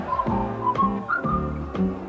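A tuneful whistled melody carries a cheerful song, rising and falling in short phrases over a steady musical accompaniment, loud and close with no voices.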